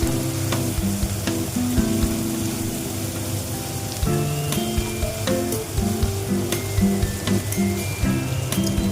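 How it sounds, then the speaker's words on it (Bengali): Potatoes fry with spices and ginger paste in hot oil, giving a loud, continuous crackling sizzle up close. The sizzle is joined by some steady low tonal background sound, and nobody speaks. "ভেজে নেবো লাল লাল করে মশলার সাথে আলুটা।"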